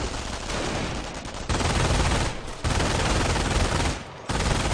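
Sustained video game gunfire from a pack of units firing in the distance, a dense, continuous crackle of rapid shots in bursts separated by brief dips, with no voices.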